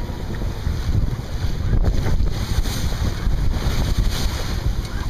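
Strong wind of about 20 knots, gusting higher, rushes over a reefed sailboat under way, buffeting the microphone in a loud continuous roar with rumbling water and wave noise underneath and no voices.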